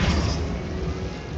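A Bombarda or Confringo spell explodes in Hogwarts Legacy as a dense, sustained, rumbling blast that fills the short moment at close range and high volume.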